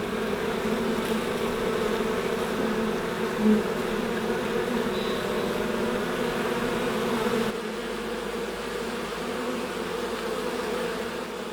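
A swarm of about 20,000 honeybees buzzing continuously at a hive entrance in a forest, a dense, steady drone of many wings, close by, with the tone shifting slightly partway through.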